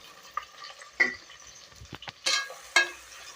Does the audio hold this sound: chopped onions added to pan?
yes